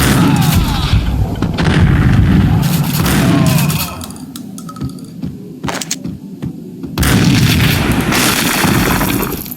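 Booming in-game explosion, bomb-like, from the Max Payne video game: dense low rumbling bursts for the first few seconds, a quieter stretch of scattered thuds, then another heavy roaring blast near the end.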